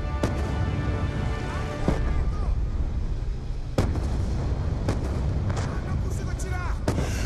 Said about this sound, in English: The mortars have stopped!